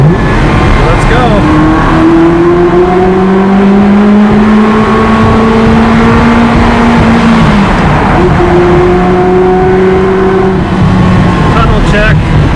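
A Ferrari 360 Spider's engine accelerates through a tunnel, loud and close with a rising drone that drops at a gear change and then climbs again, echoing off the walls under constant roar and wind.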